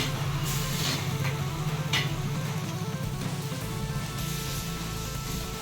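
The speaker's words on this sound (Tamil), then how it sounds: "இன்னும் கொஞ்சம் நேரம் வதங்கட்டும்" Masala frying in a pan while cooking egg thokku, a steady close sizzle and crackle that runs the whole time with a few faint scrapes of stirring and no talking.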